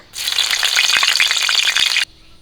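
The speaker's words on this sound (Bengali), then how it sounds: "কড়া গরম হয়ে গেছে সরিষার তেল দিয়ে দিচ্ছি দিয়ে দিচ্ছি তেজপাতা" Bay leaf dropped into hot mustard oil in a heated wok, a loud, dense crackling sizzle that starts abruptly, holds steady for about two seconds, then cuts off.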